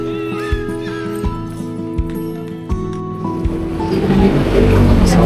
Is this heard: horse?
yes